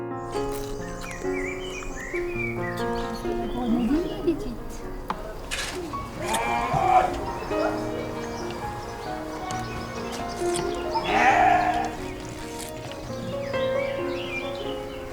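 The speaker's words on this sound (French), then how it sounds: "la petite brebis là, regarde." A young ewe, a six-month-old sheep, gives repeated wavering bleats close by, while people talk and move around over them throughout.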